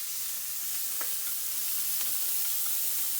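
Onions, green onion, bean sprouts and mushrooms stir-frying in a pan for Vietnamese bánh xèo, a steady close sizzle with a few light scraping stirs, no voices.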